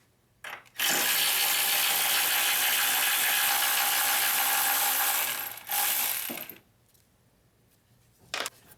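A hand ratchet turns bolts off a plate on a VW Beetle 1.9L engine during timing belt work, a rapid loud clicking run lasting several seconds, then a short second burst and a brief final click, close up.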